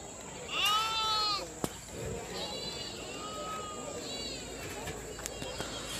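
Young native goat kids bleat at a busy goat market in Melapalayam, several wavering cries in turn, some near and loud, others fainter, over a murmuring crowd backdrop.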